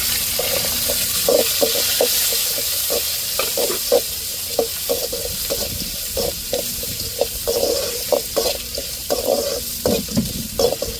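Onions frying in a pan with curry leaves: a constant close sizzle broken by repeated stirring scrapes and clinks at an uneven rhythm.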